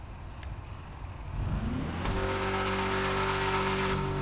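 A Yosemite Drift car in the video game, set up with a level 4 engine and stock exhaust, revs its engine, the tone rising and then holding a steady, loud, close drone.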